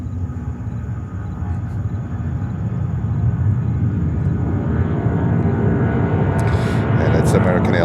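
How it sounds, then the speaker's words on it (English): An American Airlines Boeing 777 airliner at JFK airport in New York, a steady broad jet engine rumble that gradually grows louder, with brief bursts of talk near the end. "it's American Airlines 777 heading to London Heathrow"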